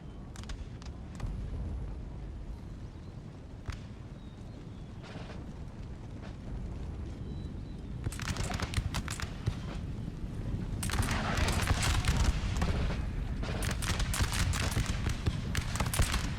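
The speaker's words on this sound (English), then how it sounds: "Lucky artillery strike there took out a lot of them" Artillery strikes and explosions rumble through a Napoleon: Total War battle, with scattered distant booms early on that swell into dense, loud bursts of blasts and crackling impacts over a constant low battlefield din.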